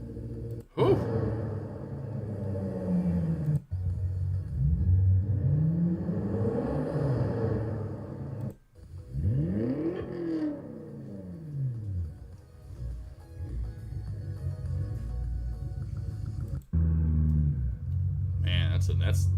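A 680-horsepower car engine with high-pressure fuel pumps revs repeatedly, each blip rising and falling in pitch as a loud throaty roar, close by, with brief gaps between pulls.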